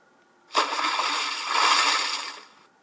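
A single loud splash as someone jumps into a garden fountain, starting abruptly with spraying water that continues for about two seconds before fading, with no voices.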